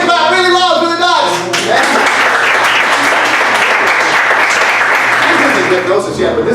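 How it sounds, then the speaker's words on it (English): A magic show audience at a gelato shop breaks into loud, sustained clapping that swells and fills the room for several seconds, while a voice is heard over the start of it. "Everybody clap really loud for the dots."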